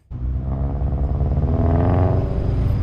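A wide-body tuner car rolls into a car meet, its engine a steady low rumble that swells slightly as it draws closer, with no talk over it.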